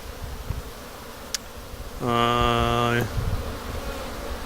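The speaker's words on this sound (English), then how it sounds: "Looks like they got orientation flights going on today." Honeybees fly around the front of a hive on orientation flights, and one bee buzzes loudly past close by for about a second over a soft background hum.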